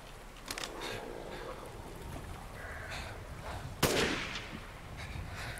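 Assault rifle fire in a video game, faint scattered shots under a busy background, with one sharper, louder burst near the end.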